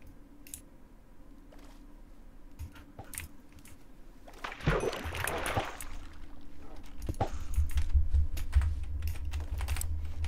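Quick clicking of keys on a computer keyboard, typing a message in short bursts during a Minecraft-style game session, fairly close, with a low hum and some background noise beneath.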